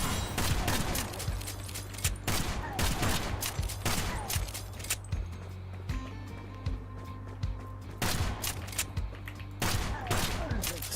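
A starter weapon fires in a video game in rapid bursts of loud, sharp shots, separated by brief pauses over a steady low hum.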